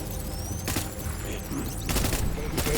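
Gunfire in Death Stranding erupts in loud bursts of a firefight, two sharp volleys standing out against a dense, noisy backdrop of game sound.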